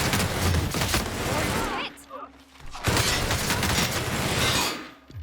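Rapid gunfire in the video game The Outer Worlds, loud bursts of automatic shots that break off briefly and then resume, with a voice talking in the background.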